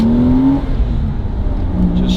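Porsche Boxster S 986 engine pulling through its 6-speed manual gearbox, a loud steady drone with pitch rising then dropping at a gear change, heard from inside the car.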